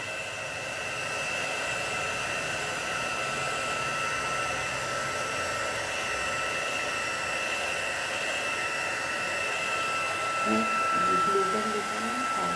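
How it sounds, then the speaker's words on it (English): A heat tool blows steadily to set embossing powder on a mixed-media canvas, producing a loud, continuous whirring hiss close by with no breaks. "And now I'm just going to heat set them."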